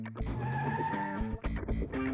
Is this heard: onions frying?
no